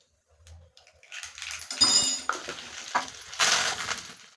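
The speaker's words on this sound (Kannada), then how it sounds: "ಸ್ವಲ್ಪ ಸಾಸಿವೆ ಹಾಕ್ತೀನಿ" Mustard seeds dropped into hot oil to temper beetroot palya give a burst of crackling, popping sizzle with sharp clinks that swells twice, close up and with no talk.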